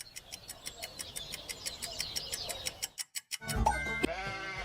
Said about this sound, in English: Yes, a sheep.